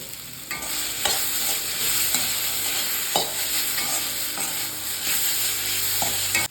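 Fried yam sizzles and crackles in a hot pan while a utensil stirs and scrapes through it, with occasional clinks, close and steady.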